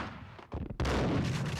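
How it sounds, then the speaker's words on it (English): A shotgun fires in the video game Max Payne: a heavy, booming blast cuts in after a brief lull and rolls on as a loud, sustained roar. "shotgun's also a pretty fun weapon"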